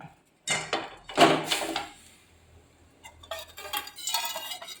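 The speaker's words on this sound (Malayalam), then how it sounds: "ഇളക്കി തിരിഞ്ഞ് വെക്കണം" A spoon stirs ragi and touch-me-not porridge in a pot on a stove, giving a few scraping, clinking strokes near the start, then a quiet stretch and a softer burst of scraping toward the end.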